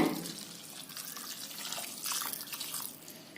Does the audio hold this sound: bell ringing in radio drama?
no